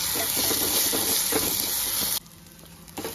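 Tomato and grated coconut roasting in a hot pan, a loud, steady sizzle with stirring crackles that cuts off abruptly, leaving a quiet tail with a faint clink.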